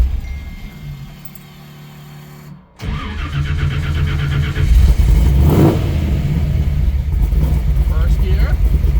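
A hot rod car engine on the Hot Rod Power Tour cranks, catches and starts, then settles into a loud, rough rumble with rising revs close by, as voices talk over it.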